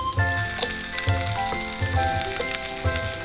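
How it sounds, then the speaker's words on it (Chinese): Toast pieces, bacon-asparagus rolls and an egg fry in melted butter in a flat pan, giving a close, continuous sizzle and crackle over a humming background tone that pulses in a slow, regular rhythm. "融化之后先摆上去腥的吐司块和培根芦笋卷，接着打入1颗全蛋。"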